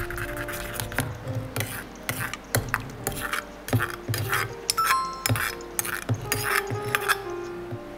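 A utensil stirs and scrapes in a pot as miso is dissolved into tomato and winter vegetable soup, giving repeated clinks and scrapes at an irregular rhythm, close and fairly quiet.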